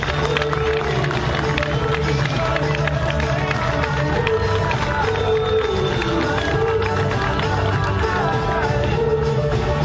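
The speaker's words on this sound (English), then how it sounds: "make some noise, and please welcome John McAfee on the stage" An audience at a blockchain conference on a cruise in Asia cheers and applauds as a keynote speaker comes on stage, producing a dense, continuous wash of crowd noise and clapping.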